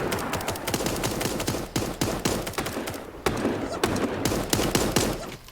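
Gunfire from the video game Super Animal Royale crackles in rapid, uneven bursts of sharp shots, dense and fairly loud throughout, with brief pauses between volleys.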